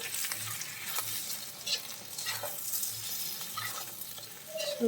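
Chicken perattu with coriander and curry leaves stirred in a pan, a steady sizzle and fry under soft scraping strokes of the spoon, with no voices.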